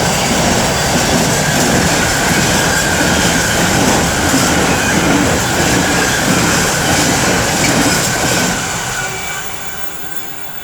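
Freightliner class 66 locomotive 66559 hauls a freight train past at close range, a loud sustained rumble with rail clatter and faint wheel squeal that fades slightly as the wagons clear.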